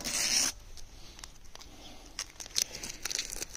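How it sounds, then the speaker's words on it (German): Adhesive tape peeled off during a car wax test makes a sharp, loud tearing rip at the start, followed by quieter crinkling and rustling up close. "Klebeband einmal abziehen."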